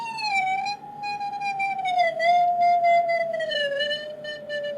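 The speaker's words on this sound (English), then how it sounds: "what you hear are individual quantum electrons." A clear, whistling electronic tone with strong overtones, made audible from individual quantum electrons tuning a vibrating carbon nanotube, holds steady, then drops in pitch in small steps, sounding alone without any voices.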